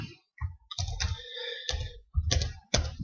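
Typing on a computer keyboard during a data-entry tutorial, heard as close, crisp bursts of key clicks in irregular clusters with short pauses between.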